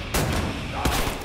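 Two sharp gunshots from Wolfenstein: The New Order, spaced under a second apart, loud and close over a busy game soundscape.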